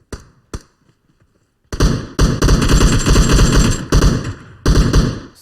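Gunfire in the mobile battle-royale game PUBG Mobile: two isolated sharp shots, then loud, sustained rapid-fire automatic bursts that rattle on almost without a break.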